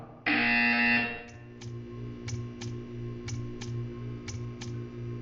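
A loud electronic buzzer in the video game Portal 2 blares for about a second, then a series of sharp, evenly spaced ticks follows over a low steady hum.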